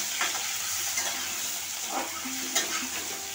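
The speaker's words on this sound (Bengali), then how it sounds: "লবণ হলুদ দিয়ে আলুটাকে ভেজে নিলাম।" Potatoes fry in a pan with salt and turmeric, a steady close sizzle with a few soft stirring scrapes and knocks spread through the clip, no voices.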